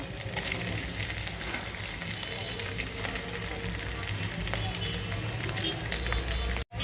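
Egg and bottle gourd hit a hot pan with cumin seeds and a bay leaf, giving a continuous dense sizzle and crackle of frying throughout, with faint stirring scrapes underneath and an abrupt cut near the end.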